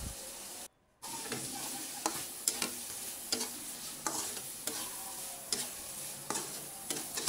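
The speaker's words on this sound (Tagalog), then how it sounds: "Halo-haluin lang po natin." Buttered shrimp being stirred in a pan, a steady sizzle broken by regular scraping strokes of the utensil, close and fairly loud, with a brief silent gap near the start.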